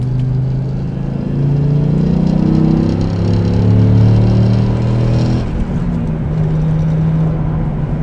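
A Dodge Ram SRT-10 pickup with a V10 engine pulls hard at highway speed, its deep, steady engine drone rising in pitch through the gears over about five seconds, then dropping after a shift into a lower, sustained cruising rumble.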